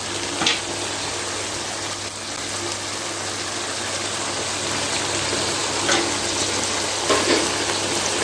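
Potato and aubergine curry (aloo baingan) frying in a pan while a spoon stirs it, giving a steady close sizzle broken by a few soft scraping knocks, with no talking.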